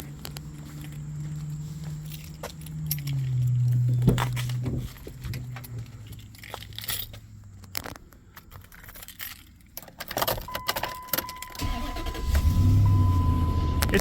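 A 2005 Dodge Ram pickup's engine starts and settles into a steady low rumble, with a few clicks and rattles like keys or footsteps scattered across the clip.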